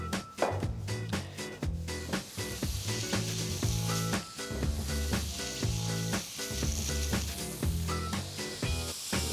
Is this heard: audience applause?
no